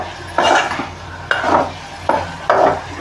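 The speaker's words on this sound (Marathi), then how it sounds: "वाटण पण आपण चांगलं मस्त परतून घेऊ असं" Ground masala paste for a dried-fish sukat curry is sautéed and stirred in a pan, with four distinct scraping, clattering spoon strokes over a low background hiss, close and fairly loud, with no talking.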